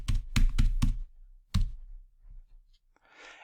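A few heavy keystrokes on a computer keyboard while entering a password: four quick thumping taps, a short pause, one more key press, then quiet with a faint breathy sigh.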